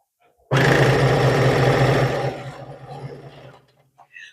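A sewing machine stitching quilt blocks together, starting abruptly with a loud, fast mechanical whir for about two seconds, then slowing and tapering off in softer bursts before stopping.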